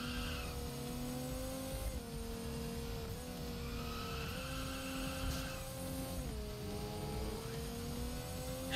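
Game car engine from Initial D Arcade Stage Zero revving up steadily after an upshift, loud continuous tonal drone with pitch drops at each gear change, synthetic racing-game sound.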